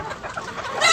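Sonali chickens on a poultry farm give short clucks and soft bird calls, moderately close, rising a little louder at the end of the brief moment.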